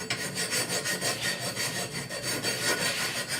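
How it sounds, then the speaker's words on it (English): A hand file rasps across sheet metal for a vent pod on a 1966 Ford F100 dash, with quick, rhythmic back-and-forth strokes that sound loud and close, with no talking. "File is definitely faster"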